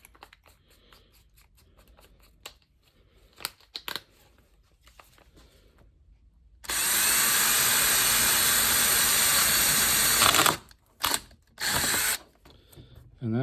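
A larger drill bit bores through material on a railroad control panel, a loud, steady grinding whir running about four seconds, then stopping, followed by two shorter bursts of drilling after quiet clicks and handling noises.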